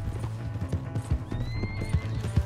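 A horse in Red Dead Redemption 2 clip-clops in a quick, steady hoofbeat rhythm close by while a high whinny rises over the middle of the passage.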